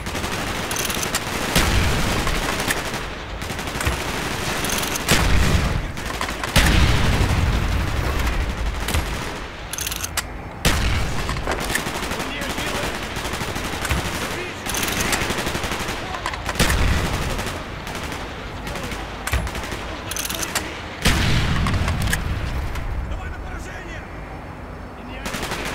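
Sustained gunfire in the Call of Duty Black Ops video game, with dense automatic bursts and repeated heavy shots across the whole stretch, loud and continuous with brief dips between volleys.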